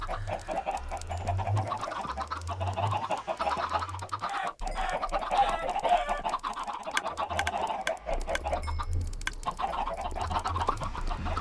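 Minecraft chickens cluck in short repeated bursts throughout, with a steady game soundscape underneath and no voices.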